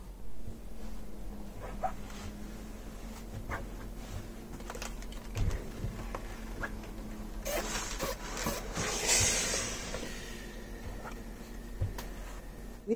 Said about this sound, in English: we're now going to overlock all of the edges before we then press it over onto this side